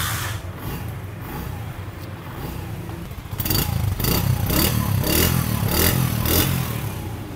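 A Honda CD 70 motorcycle, 2025 model, running near the microphone; a steady mid-pitched engine and exhaust note that turns louder and rougher partway through, with rhythmic pulses from the silencer.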